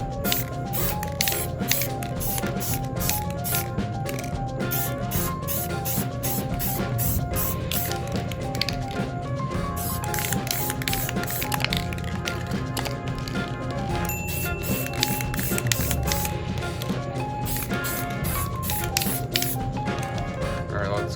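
An aerosol can sprays paint onto an Axial SCX24 Tacoma body shell in a steady, continuous hiss with brief rattly breaks, close and fairly loud for the whole stretch, with a voice faintly in the background.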